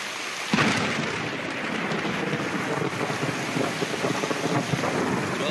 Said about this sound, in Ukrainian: як шквальний дощ із градом топлять місто